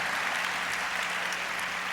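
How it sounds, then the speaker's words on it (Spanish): A congregation in church gives the Lord steady, even applause, a continuous wash of clapping at moderate level with no voices over it. "Un aplauso fuerte al Señor con mi hermano Fernando Rueda."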